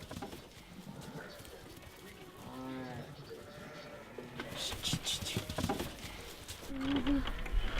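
Sheep and young bun lambs bleat on a farm, several wavering calls near and far amid rustling and shuffling, with a voice talking at times and a higher lamb cry near the end.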